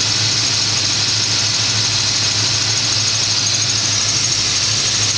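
A 1987 5.0 engine idling with a steady, close drone and low hum, carrying a faint chirping noise at idle from the engine bay.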